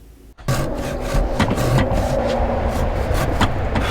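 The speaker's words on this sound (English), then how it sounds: "I'm gonna finish it up here with the handsaw to give it a clean 90-degree here." A handsaw cuts a wooden deck post with steady back-and-forth strokes, close and fairly loud after a brief quiet start.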